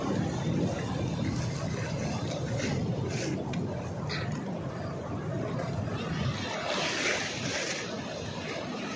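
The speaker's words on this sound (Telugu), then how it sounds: "అలలు" Steady, light surf washes in continuously at Pakala beach, a broad rushing noise with soft swells, and a faint voice is heard briefly in the background.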